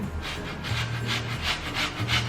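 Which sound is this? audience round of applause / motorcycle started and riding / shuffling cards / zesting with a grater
zesting with a grater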